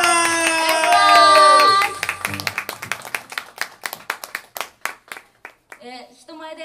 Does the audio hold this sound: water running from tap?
no